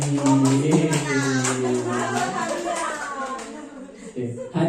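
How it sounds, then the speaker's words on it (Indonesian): At a positive-culture session at an Indonesian elementary school, a group claps in a rhythmic pattern while voices chant and talk together over the beat, the claps crisp against the sung, patterned voices. "Ada tepuk tangan untuk Bu Fani."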